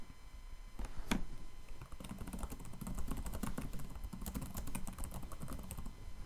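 Fingers typing a sentence on a computer keyboard, a quick run of soft, close keystroke clicks that starts after a brief pause and keeps a fairly steady rhythm, with no talking.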